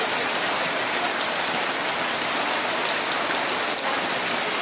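Heavy rain pours down steadily, hissing on surfaces in a dense, unbroken wash of drops that stays loud and even throughout, with no voices.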